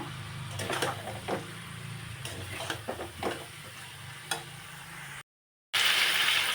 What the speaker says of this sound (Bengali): এবার এটা দিয়েও কিছুক্ষণ কষিয়ে নেব।